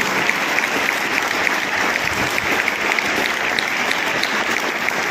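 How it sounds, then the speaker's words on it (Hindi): Crowd applause at a school results ceremony for a chemistry lecturer, loud continuous clapping from many hands, steady and even throughout with no break. "जोरदार तालियां"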